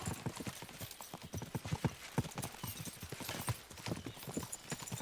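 Hooves clatter in a rapid, continuous galloping rhythm in Kingdom Come: Deliverance II, several horses moving together at a moderate distance, with no voices over them.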